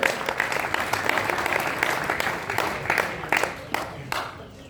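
An audience claps together at a Hindi cultural gathering on the Ayodhya movement, giving a dense, steady round of applause with scattered sharper claps standing out. No one speaks over it.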